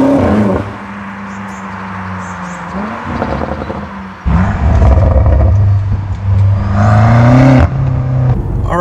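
The engine of a 2018 BMW M5 F90 rises and falls as it revs and accelerates, a deep droning note climbing in pitch, dropping briefly, then surging louder and closer before easing off.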